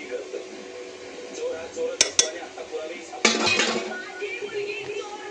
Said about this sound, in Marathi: बघा मी टोप ठेवलाय गरम करायला